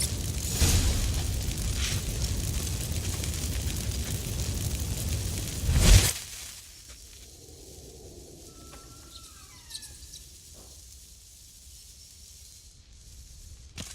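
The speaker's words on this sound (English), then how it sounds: "Get ready for some magic fireworks." Magic fireworks go off in Witcher III Wild Hunt: a rumbling, crackling build of blasts that peaks in one loud boom, then drops to a quiet background with faint chirps and small pops.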